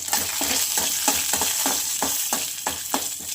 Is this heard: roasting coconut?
yes